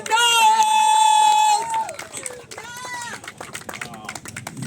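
A rally crowd at an outdoor Hispanic Heritage Month peace walk makes noise, with a long sustained shout or horn-like whoop over a loud crowd, then scattered cheers and voices.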